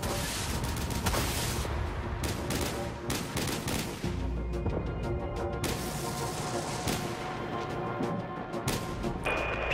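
Weapons firing in the space combat game Dreadnought 2, dense rapid gunfire and heavy blasts hammering continuously, loud and close, with booming impacts and crashes mixed in.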